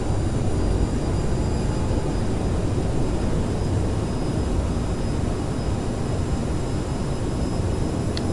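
Reverse thrust from a CRJ-700 jet landing in Microsoft Flight Simulator 2020, a loud steady engine roar with faint high whine, continuous and unchanging throughout.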